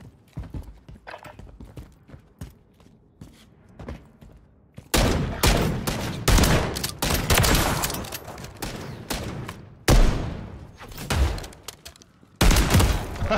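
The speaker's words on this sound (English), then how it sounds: "these shotguns are so slow, bro." Gunfire from shotguns in a ranked online shooter match: scattered faint shots at first, then a loud, dense run of close blasts in bursts with brief pauses, with no voices.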